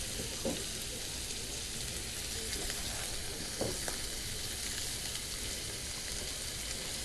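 Minced pork frying with spring onion and chili in a pan, a steady close hissing sizzle throughout with a few soft knocks of stirring.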